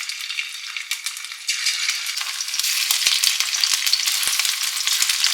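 Shrimp marinated in soy sauce, cornflour and salt sizzles steadily in hot oil, the frying growing louder and denser after a second or so, with occasional light rattles of stirring.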